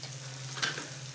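Capsicum curry masala with chili powder and turmeric frying in a pan. A soft, faint sizzle sits over a low steady hum.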